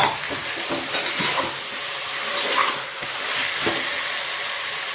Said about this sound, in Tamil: இப்போ நம்ம என்ன பண்ணுறோம் மட்டனை போட போகிறோம்